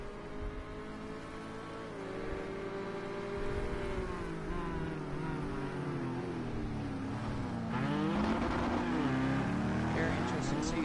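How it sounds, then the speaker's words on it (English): Race cars in a racing video game spin their tires exiting a hairpin at Fuji in a WEC endurance race, with engine drones rising and falling over a steady loud roar, and a voice talks over them throughout. "It sounds like both of the cars starting to spin their tires a little bit coming off of that hairpin"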